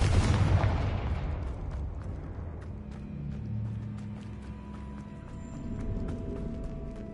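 A Confringo blasting spell explodes in Hogwarts Legacy, a loud boom that fades into a rumbling tail, followed by scattered clattering game sounds and low ambient drones.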